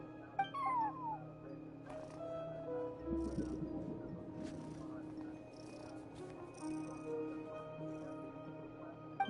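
A cat meows a few times in Genshin Impact at a front desk with no one else present, short soft calls over steady game music and ambience.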